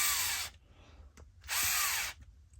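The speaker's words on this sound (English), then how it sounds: "You can hear the drill" Power drill driving the screws on 2.2-inch carbon fiber beadlock wheels for a crawler, two close, loud whirring bursts of about half a second each with a short pause between.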